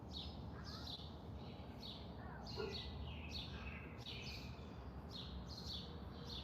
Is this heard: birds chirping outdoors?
yes